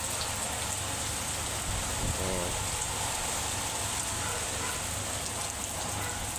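Heavy rain pours down steadily in a dense, even hiss of falling water, loud and unbroken, over a yard where floodwater is collecting, with no voices.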